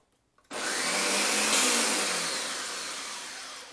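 A blender mixing baby spinach and crushed tomato for vegetable juice kicks on after a brief pause, then roars loudly and steadily, its whine gradually easing as the blend smooths out.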